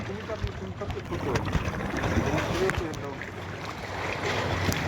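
Small boat moving on water near a cave by James Bond Island in Phuket, with a rough, continuous engine and water wash rumble.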